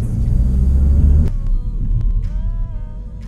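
Ford Focus ST TDCi with a dual-clutch Powershift gearbox under way, a steady low engine rumble broken by a sudden drop and rising tones as gears change quickly, heard from inside the cabin.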